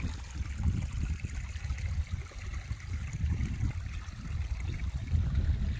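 Spring water pours steadily from a pipe out of a covered catch basin, a continuous gurgling, splashing flow close by with no voices over it.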